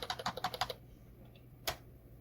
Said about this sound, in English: I'll just type 7 A's.